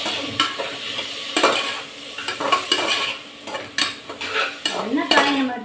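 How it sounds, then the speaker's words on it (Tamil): Vegetables sauté in a pan for coconut milk rice, a soft sizzle under repeated scraping strokes of a spoon stirring against the metal, close and clear. "இப்போ நான் காய்கறிகளை போட்டு வதக்கிடுறேன்."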